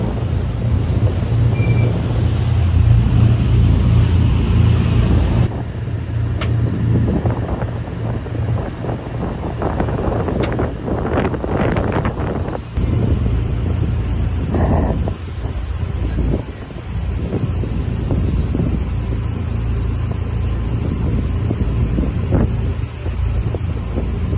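A CB-90 military assault boat runs on water as a steady low engine drone. Wind buffets the microphone heavily throughout, and there are brief rattling and knocking sounds partway through. No one speaks.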